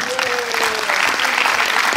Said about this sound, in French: je vais applaudir